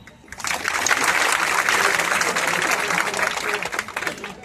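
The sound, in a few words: audience applauding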